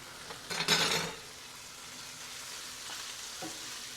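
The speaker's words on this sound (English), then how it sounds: "make sure the onions are nicely sauteed" Large-cut onions sautéing in oil in a frying pan for beef stroganoff, with a loud burst of sizzling and stirring early on that settles into a quieter, steady background fizz with faint scrapes.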